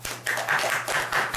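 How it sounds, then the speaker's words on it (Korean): An audience at a lecture claps together, a steady patter of many hands that fills the whole short moment, close and fairly loud. "박수를 한번 쳐보시죠"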